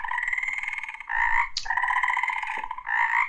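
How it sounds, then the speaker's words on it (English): Frog croaking used as an ambient effect in a tabletop fantasy game: several long, buzzy croaking trills repeat in steady pulses, loud and close, with brief breaks between calls and no talking. "you hear the croaks start chiming up around you for a moment"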